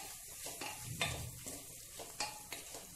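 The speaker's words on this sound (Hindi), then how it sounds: "और हम सभी मसाले को कुछ सेकंड के लिए अच्छे से भून लेंगे।" Biryani masala spices roasting in a pan for egg biryani, a soft low sizzle under repeated stirring scrapes of a spoon against the pan, quiet and close with several distinct strokes.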